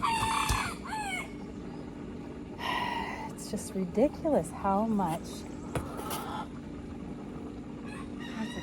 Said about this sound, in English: These roosters absolutely drive me insane with their crowing.